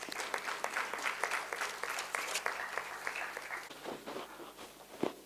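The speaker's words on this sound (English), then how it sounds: "let's give him a huge round of applause" An inaugural summit audience breaks into sustained applause, a dense wash of many hands clapping steadily throughout, moderately distant in a large hall.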